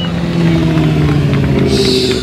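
A motorcycle engine revs loudly and close by, a steady droning tone that holds for about two seconds with a slight rise in pitch near the end.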